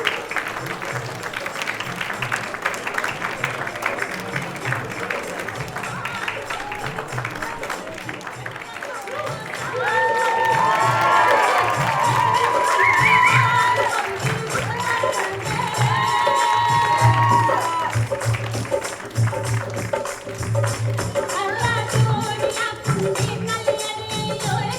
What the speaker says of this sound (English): Boys and girls, keep those hands clapping.